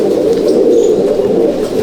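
Brief burst of close pigeon cooing from a loft of Andhra and Madrasi birds, a steady layered murmur with faint chirps and no talk.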